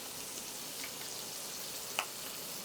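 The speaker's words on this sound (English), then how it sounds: "So we're going to do the scallops first, let them get crispy, seared" Scallops sear in a hot pan with a steady, fine sizzle and crackle, close and moderately quiet, with a couple of brief louder pops and no talk.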